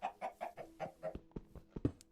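Chickens in Minecraft cluck close by in a quick, even series of about ten short clucks, ending with a few sharper pecking-like clicks.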